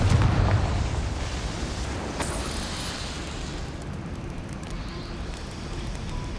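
A Confringo blast spell exploding in Hogwarts Legacy: a booming burst at the start, a sharper crack a couple of seconds later, then a sustained noisy rumble trailing off.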